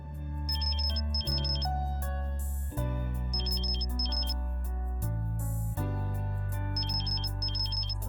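A phone ringtone plays loudly and steadily, a repeating melodic electronic tune with bright chiming accents recurring throughout.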